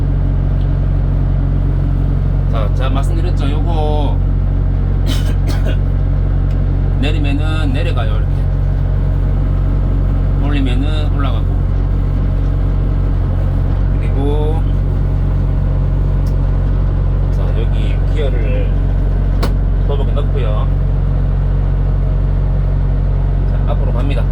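A Kubota six-row combine harvester's engine idles after starting, a loud, constant low rumble running the whole time while someone talks intermittently over it nearby.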